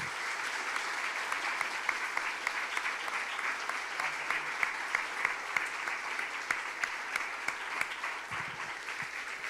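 A church congregation claps together during a Sunday morning anniversary service, steady many-handed applause heard from a moderate distance and fairly quiet, continuing evenly for the whole stretch.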